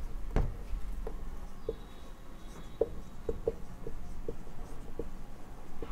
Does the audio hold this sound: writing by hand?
yes